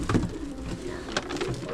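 A pigeon coos softly in a few low, throaty bursts, close by, with faint room noise around it.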